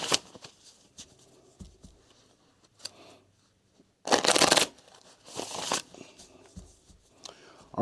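Tarot cards shuffled and riffled close by, with a quieter handling rustle early on and two loud bursts of card shuffling in the second half, with some soft speech.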